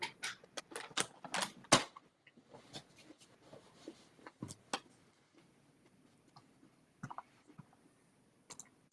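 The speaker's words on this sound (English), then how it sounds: "Typewriter." A typewriter clatters: dense bursts of sharp keystrokes at first, then sparser, irregular clicks and a few isolated taps, close and clear with no voices.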